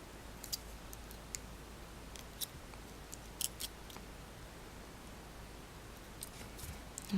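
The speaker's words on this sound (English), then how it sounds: "You'll notice when I trim them that I put the end of the wire into the beading mat." Sharp cutters snip off wire ends for a beaded sea green swirl bracelet, with the wire tips held against a beading mat. Crisp single clicks come one at a time, spaced apart over a quiet background.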